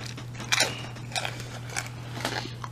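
Three or four crisp, close crunches as someone bites into Buffalo Wild Wings Doritos Flamin' Hot nachos topped with peppers, with soft chewing between bites and a faint steady hum underneath.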